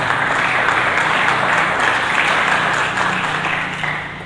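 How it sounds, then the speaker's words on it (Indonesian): Congregation in a Sunday church service giving a lively round of applause, dense continuous clapping that fades slightly toward the end. "Mari kita berikan tepuk tangan yang meriah."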